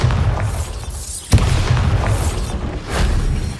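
Bombarda explosion spell in Hogwarts Legacy: a sharp, loud blast in the middle of a dense, rumbling wash of game noise, then debris-like crackle and further swelling rumble.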